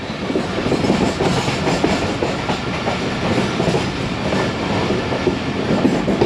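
Rehman Baba Express train rolling slowly through Chaklala railway station near Rawalpindi, a steady rumbling rattle of cars and wheels heard from on board, continuous and fairly loud with no voices.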